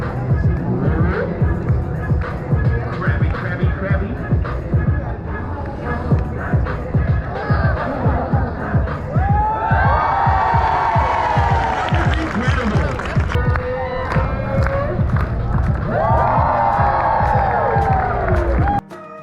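Crowd gathered around street performers dancing with audience members at Piccadilly Circus, London, with constant lively chatter, cheers, and music-like rising calls amid busy outdoor bustle.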